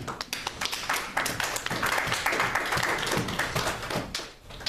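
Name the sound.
congregation applauding for Jesus Christ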